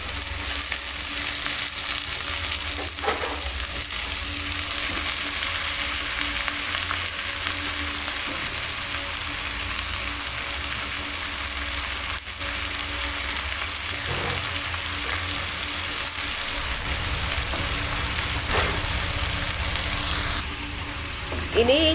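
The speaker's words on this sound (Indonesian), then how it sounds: "Setelah layu dan harum, masukkan cumi." Squid sizzles in a hot pan with wilted, fragrant aromatics, a steady, loud frying hiss that runs without a break, with occasional stirring scrapes.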